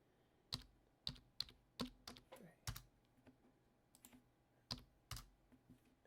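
Computer keyboard typing in irregular bursts of sharp clicks and keystrokes, close but quiet, with short pauses between them.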